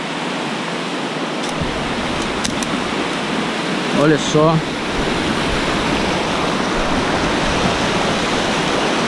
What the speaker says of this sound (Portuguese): Já estamos ouvindo som, barulho de cachoeira.